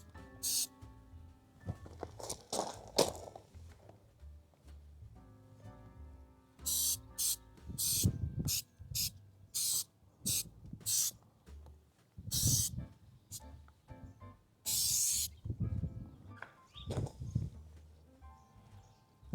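Trim restoration product sprayed onto car trim in short hissing bursts, a series of close, separate sprays with brief pauses and light handling noises between them.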